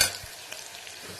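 A tempering for egg biryani sizzles softly in a pan as it is stirred. The frying hiss is faint and brief, with a couple of light scraping stirs.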